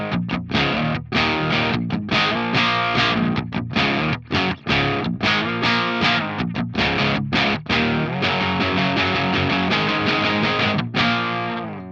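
Electric guitar through a Crab BE amp on its BE channel with low gain, strumming crunchy, mildly overdriven chords in quick rhythmic bursts with short choked stops, loud and up close.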